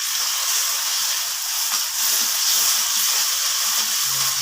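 Spice paste for chicken curry sizzles loudly in a pan just after water is added, a steady, close hiss and crackle with no voices.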